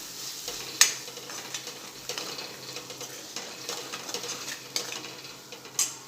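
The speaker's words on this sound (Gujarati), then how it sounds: "બધું સરસ મિક્સ કરી લઈશું।" A spoon scrapes and stirs poha in a pan with coriander-cumin powder, salt and lemon juice, making steady soft scraping and light sizzling with a few sharper clinks against the metal, close by and with no talk.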